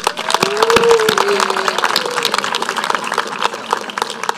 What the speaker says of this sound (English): I'd also like to have a round of applause for all the staff gathered up here tonight